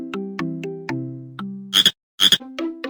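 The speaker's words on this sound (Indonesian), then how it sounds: "Katak." A frog croaks in a rhythmic series of short, buzzy calls, loud and close, ending with a few sharper rasping bursts.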